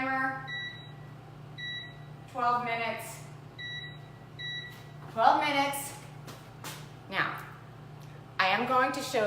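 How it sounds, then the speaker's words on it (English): A kitchen timer set for 12 minutes gives a few short, high, evenly spaced beeps near the start. Voices talk over and after the beeps. "Timer, 12 minutes."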